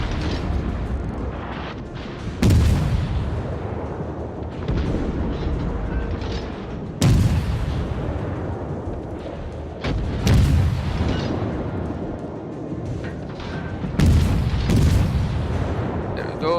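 Naval gun salvos from the Soviet cruiser Orlan in World of Warships, four heavy booming blasts spaced several seconds apart over a constant loud rumble of engine and sea noise.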